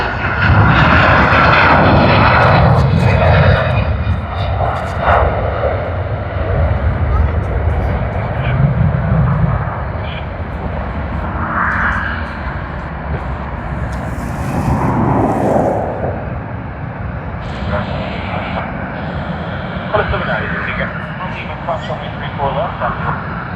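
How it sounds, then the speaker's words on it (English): An AirAsia airliner flying the Sydney to Kuala Lumpur route rolls for takeoff at Sydney Airport, its engines a loud, steady roar that holds throughout with only slight swells. Voices sound faintly underneath. "Sydney to Kuala Lumpur service on Air Asia has begun its takeoff roll, so let us capture its departure."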